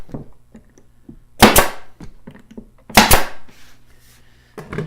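Nail gun firing into a wooden 10-frame beehive telescoping cover, a few sharp close snaps spaced about a second and a half apart, with softer knocks and handling noises in between and no talking.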